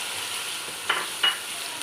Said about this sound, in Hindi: अब मैं इसमें लहसुन अदरक डाल दूँगी। अब इसको फ्राई करूँगी।